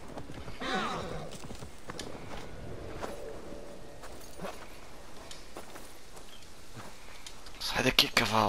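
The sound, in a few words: horse hooves walking in video game Assassin's Creed Valhalla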